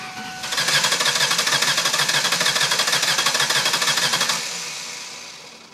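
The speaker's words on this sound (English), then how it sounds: "we're going to start this engine." A 2002 Ford Taurus engine cranks and catches, then revs with a loud, buzzing roar that holds steady before easing down toward idle.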